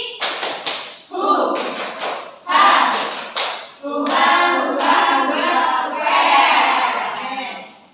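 Children in an elementary school classroom perform a rhythmic clapping cheer, bursts of claps in quick patterned groups alternating with chanted voices, loud and close, with pauses between phrases.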